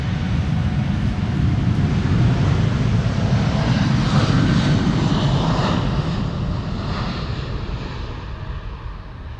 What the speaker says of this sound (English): KLM flight 677 in the meantime taking off to Calgary. It is an 8-year-old 7879 Dreamliner.